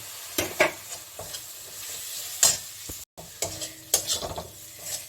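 Tomato and green chilli hit a hot pan for muri ghonto, a lively sizzle with sharp bursts and clatters as they are added and stirred, near and fairly loud.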